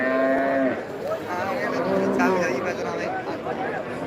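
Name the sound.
cattle mooing at a cattle market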